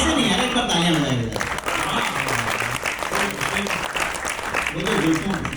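Audience at a Hindi poetry recital breaks into sustained clapping, dense and fairly loud throughout, with voices heard under it.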